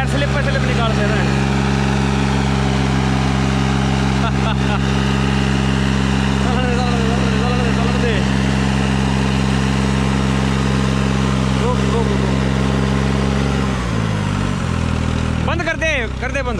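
A New Holland 3630 tractor engine runs steadily with a deep, even diesel drone, loud and close throughout, dropping in pitch near the end as it winds down; voices talk over it.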